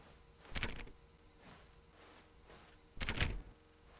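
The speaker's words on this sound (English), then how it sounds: "So I'm gonna enter the door on the right." A door opens in the video game The Stanley Parable with two distinct heavy thunks a few seconds apart, each a short mechanical clunk over a quiet hum.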